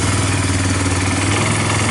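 A 1999 Yamaha Bear Tracker 250 ATV engine runs with the choke partly on, a close, steady, slightly clattery putter with no clear revving.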